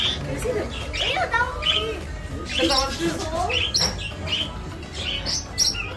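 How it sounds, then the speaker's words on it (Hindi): Several parrots chirp and squawk in quick, overlapping calls close by, with people talking underneath. "ये रंग बिरंगे तोते हैं आपके लिए रखे हैं"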